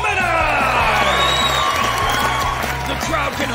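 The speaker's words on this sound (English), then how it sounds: "The crowd can hardly contain themselves. I've never seen so much excitement. I've never heard so much noise." A large crowd at a cat wrestling championship cheers and applauds loudly and continuously, with whoops and shouts layered over a thumping beat throughout.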